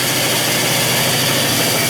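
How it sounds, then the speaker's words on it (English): A Ridgid band saw, its motor recently modified, runs at a steady, smooth drone with a dense broadband whir and hum filling the clip, close and loud, with no talk. "you can see the motor right away. It's not dancing around anymore, it's nice and smooth."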